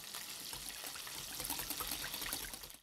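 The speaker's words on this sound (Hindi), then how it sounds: "एक अंडा हम तोड़ेंगे और साथ ही इसमें थोड़ा सा इसमें पानी ऐड करेंगे।" Water poured in a thin, steady trickle over a cracked egg for bread-roll dough, a faint continuous splashing dribble close by with no talking.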